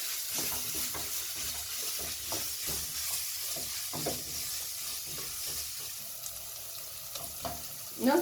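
Broccoli rice cooking in a pan, giving a soft, continuous hissing sizzle with faint crackles and occasional light stirring clinks, fairly quiet and steady throughout.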